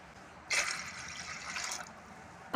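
Two glasses of water pour into freshly washed toor dal in a pot, a steady splashing fill lasting about two seconds, close and fairly quiet, ending in a brief clink.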